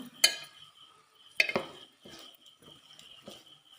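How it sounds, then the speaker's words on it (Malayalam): Onions being stirred and sautéed in a pan, heard as a few separate scraping clinks of a spoon against metal, two sharper near strokes followed by softer ones over a faint sizzle. "സവാള നല്ലപോലെ ഇളക്കി വഴറ്റിയെടുക്കാം"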